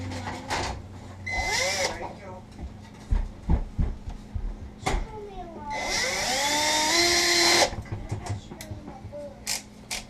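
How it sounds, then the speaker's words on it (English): Power drill driving screws while reinstalling an infinite switch on a Whirlpool appliance, two whining bursts that rise in pitch as they run, mixed with clicks, knocks and handling sounds, close, with someone talking between the bursts. "Tighten up a screw or two, and then run all the others up."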